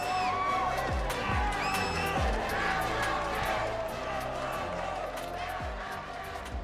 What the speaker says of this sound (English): Dude, look at the crowd.